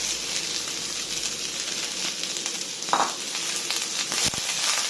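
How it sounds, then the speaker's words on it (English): Mushrooms hit a hot pan of vegetable noodle stir fry, giving a steady close sizzle with a few scraping stir noises near the end. "So now we're going to throw in the mushrooms."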